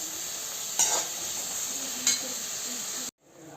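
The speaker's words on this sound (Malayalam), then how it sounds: "സബോള ഇട്ട് കൊടുക്കാവേ അങ്ങനെ ഇതൊന്ന് നല്ലതുപോലെ ഒന്ന് വഴുത്തിയെടുക്കാം" Onions and curry leaves sautéing in a pan for chicken stew give a steady, close sizzling hiss, with two brief stirring scrapes, before the sound cuts off abruptly near the end.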